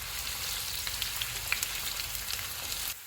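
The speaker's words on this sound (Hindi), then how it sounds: "ऑयल गर्म हो गया, इसमें प्याज डालेंगे। इनको गोल्डन ब्राउन फ्राई करेंगे।" Onions fry in hot oil on the way to golden brown, giving a steady, dense sizzle that holds evenly close up, with faint crackles and no voices, and cuts off sharply near the end.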